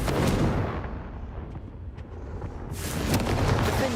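A Confringo fire spell goes off in the Hogwarts Legacy video game, a loud booming blast with a rumbling, crackling tail that swells again toward the end.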